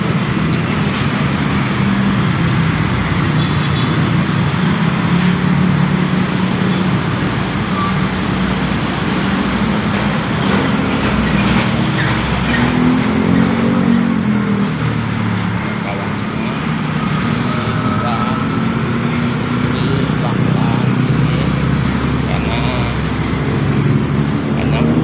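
Loud, steady street traffic along a road in Jakarta, with large vehicles, cars and trucks rumbling past continuously and a dense roadside wash of engine noise throughout.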